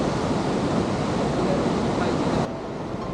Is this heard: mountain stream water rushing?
yes